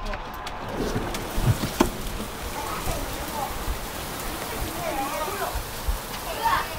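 Hail pelts down steadily outdoors, a dense, continuous rattling patter with a few sharper hits, while people talk nearby.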